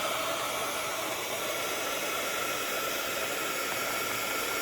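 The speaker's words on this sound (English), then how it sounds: "I'll take the heat gun." A heat gun melting embossing powder on a handmade card gives a steady, even blowing hiss that holds constant throughout, with no talking over it.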